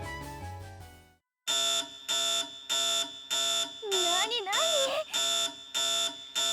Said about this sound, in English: There was an alarm planted on it?